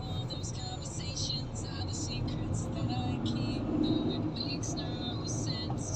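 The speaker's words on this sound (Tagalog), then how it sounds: "Ito traffic na dito." Road traffic near the Mind Ave exit along NLEX: a steady close wash of car engines and tyre roar with vehicles moving continuously, under faint background voices.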